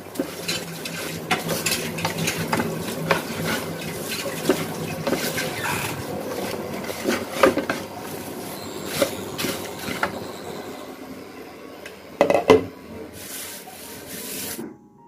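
Spices and drumstick leaves being dry-roasted in a pan, the spoon scraping and stirring in repeated rubbing strokes with occasional clinks of metal, close and moderately loud.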